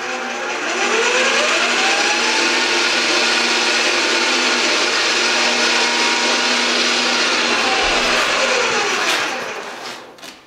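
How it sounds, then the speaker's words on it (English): A crown molding machine's feed motor pushes a scrap wood test piece through with the cutter head off, a steady loud mechanical whir holding for about nine seconds before winding down. "I'm going to just turn on the feed motor,"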